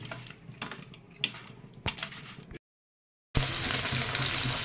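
Pabda fish coated in salt, turmeric and a little oil fry in a pan, first with crackling spatters and sharp pops, then a short gap of silence, then a loud, steady sizzle.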